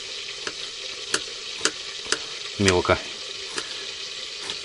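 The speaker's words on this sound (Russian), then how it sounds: "Пока окорочок жарится с одной стороны" A chicken leg sizzles steadily in a pan, with a few sharp utensil clicks and a short burst of louder frying partway through, while a person briefly speaks.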